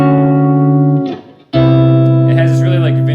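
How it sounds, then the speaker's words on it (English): A sustained electric guitar chord through a vintage-style reverb pedal rings out, fades, then a fresh strum swells with a washy reverb tail and shimmering echoes. "it has this really like vintage old school type reverb on it."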